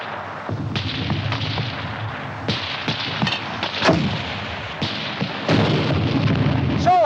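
Mortar and artillery fire in a 1951 war film, a continuous loud barrage of booming blasts and sharp cracks, with heavy thuds recurring every second or so amid battlefield rumble.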